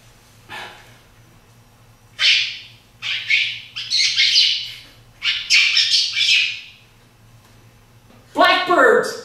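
A man imitates blackbird calls with his voice, a run of sharp squawking, chirping bursts in irregular clusters, close and loud over a low steady hum, ending with a longer raspy call.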